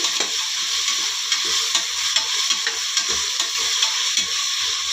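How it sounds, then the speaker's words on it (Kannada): Chopped tomatoes fry in a pan for a dhaba-style green gram dal, giving a steady close sizzle with soft stirring clicks and scrapes throughout, no voices. "ಚೆನ್ನಾಗಿ ಫ್ರೈ ಮಾಡ್ಕೊಳ್ಳೋಣ ನಾವು"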